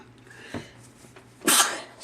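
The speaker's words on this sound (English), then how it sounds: "Sorry, I had to sneeze." A single sharp sneeze bursts out near the microphone, preceded by a short intake of breath, with quiet room noise around it.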